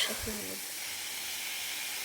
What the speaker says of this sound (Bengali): হলুদ গুঁড়ো সামান্য পরিমাণে, দিয়ে আরও কিছুক্ষণ আলুটাকে ভাজা ভাজা করে